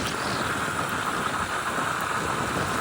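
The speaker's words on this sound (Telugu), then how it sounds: "వర్షం చాలా కూడా ఒకసారి తుఫాన్ ప్రభావం చూడండి ఎలా ఉందో" Heavy rain from Cyclone Montha in Kakinada, India, pours down in a dense, unbroken roar of noise, constant and loud throughout, with no voices.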